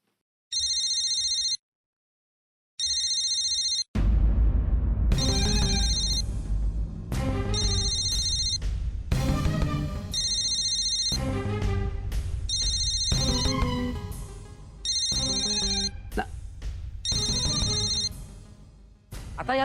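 A phone ringtone rings in repeated electronic bursts, starting alone with short pauses, then continuing under background music in a Marathi TV serial scene.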